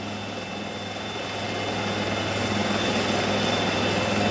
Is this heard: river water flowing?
no